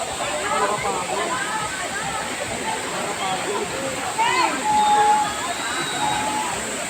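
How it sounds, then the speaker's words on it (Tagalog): Steady rushing spring water at Bato Spring in San Pablo, Laguna fills the background, a constant broadband wash, with a few brief tonal chirps and voices faintly mixed over it. "Lakas ng tubig."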